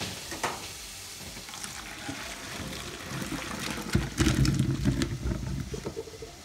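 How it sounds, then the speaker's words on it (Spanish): Bacon browning in a pan gives a soft, steady sizzle and crackle, faint and close, with a louder burst of spattering partway through and no talking. "Mientras nuestro tocino se está dorando"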